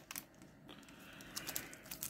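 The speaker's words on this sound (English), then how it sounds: "More cellophane." Cellophane wrapper on a 1989 Fleer baseball card rack pack being handled, giving quiet, close crinkles and crackles in quick irregular bursts, with no voices.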